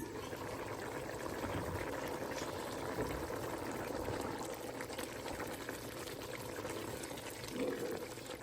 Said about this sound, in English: It's been simmering for about 45 minutes.